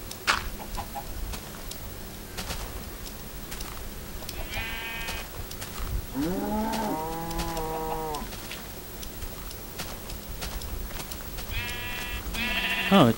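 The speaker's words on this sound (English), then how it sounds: "Oh, 2 sheepies." Sheep in Minecraft bleat in short wavering calls, one around the middle and others near the start and end, over a steady game background with no talking.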